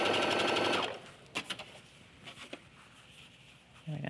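A sewing machine stitches fabric in a loud, steady run of just under a second, then falls to scattered soft handling taps before a brief restart at the end.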